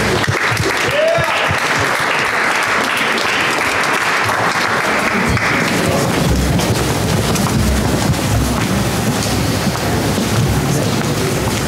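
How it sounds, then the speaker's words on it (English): Loud, sustained audience applause at a May 2019 incubator pitch event for a team called The Box, a dense wash of clapping that swells and continues throughout with crowd noise. "round of applause for The Box."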